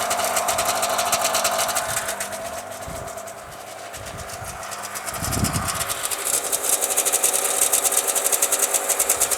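A Polaris Indy Lite 340 snowmobile engine warms up, a rapid buzzing two-stroke idle that dips, then rises and steadies louder, heard close with a few low thumps and no talking.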